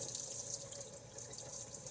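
Hot water runs steadily from a kitchen sink tap into a wash bowl, a constant close hiss of flowing water with no pauses.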